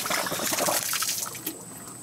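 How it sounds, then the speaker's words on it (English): Water from an above-ground pool trickles and pours into a Hayward pump and sand filter, a steady close splashing flow that softens slightly toward the end. "you can see the water starting to come in. That's coming in from the pool."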